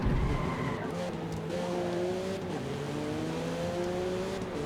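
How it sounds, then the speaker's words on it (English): Race car in Forza Motorsport sliding through a corner, tires squealing in long tones over a steady engine drone, continuous and fairly loud with no speech. "Car is sliding"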